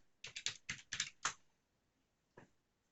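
Fingers type a username and password on a computer keyboard: a quick run of about eight crisp clicks, a pause, then one last keystroke, all close and clear in a quiet room.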